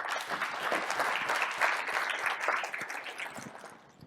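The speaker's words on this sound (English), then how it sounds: "I'd like to give them a hand of applause" A conference audience in Silicon Valley claps for the event's sponsors, a full wash of applause that holds steady, then thins and fades out in the final half second.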